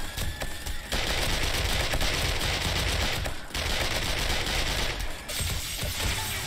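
Relentless automatic gunfire from the survival game 7 Days To Die as turrets shoot into an incoming zombie horde, loud continuous bursts with brief gaps, no voices over it.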